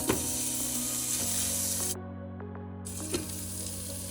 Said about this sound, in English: Now I'm gonna cook up my steaks.